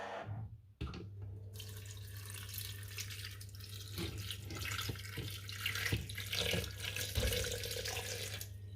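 Running water pours steadily from a tap into a pot, one cup of cold water, a continuous splashing stream with a few clinks, no voices.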